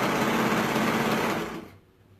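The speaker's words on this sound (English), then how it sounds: "Right now I'm going to sew down my side seams on my front and back" Sewing machine stitching the side seams of a garment's front and back in soft double-brushed poly fabric, a fast steady mechanical whir heard close and alone, slowing and fading out at the end.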